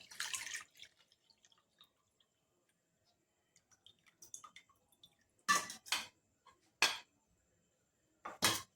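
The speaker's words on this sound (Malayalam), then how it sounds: "ഇത് നമുക്കൊന്ന് അരിച്ച് മാറ്റി വെക്കാം" Cooled tea water is strained into a vessel, giving scattered small drips and light clinks of metal utensils, then several sharp pouring or tapping bursts near the end, with no talk.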